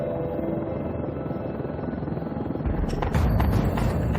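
A police helicopter flies overhead during a night search, its steady rotor and engine drone rumbling throughout and growing louder and fuller toward the end.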